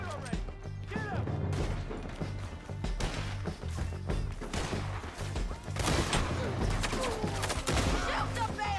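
Video game gunfire with bursts of rapid shots and impacts over a thick, busy battle soundscape, with people shouting over the shooting.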